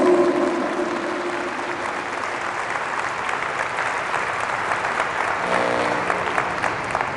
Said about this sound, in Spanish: Fuertes aplausos al Señor Jesús